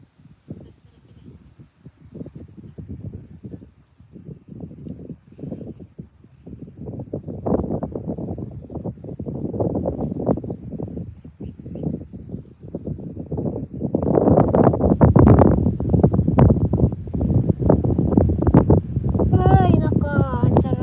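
Wind gusts over a rural farm field in the province, buffeting the microphone in rumbling bursts that grow stronger and steadier toward the end. Voices talk faintly underneath.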